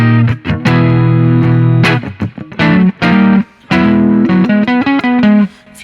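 A clean electric guitar amp preset with a little boost, played in Ableton Live, rings out in loud strummed chords and picked notes, warm with slight grit and a touch of reverb.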